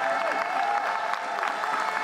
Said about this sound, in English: let's give them another well-deserved round of applause